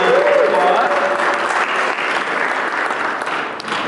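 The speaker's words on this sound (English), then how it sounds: "Let's give them a big round of applause." An audience at a hemp keynote event gives sustained, dense applause, many hands clapping loudly and continuously close by with a faint voice at the start.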